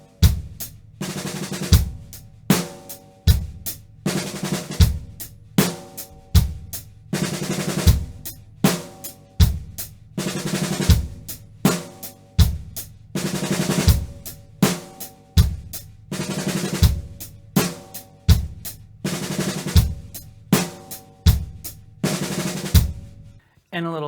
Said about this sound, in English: number 7 is also a 9-stroke roll, but now it's on beat 4, and that is leading back into the next measure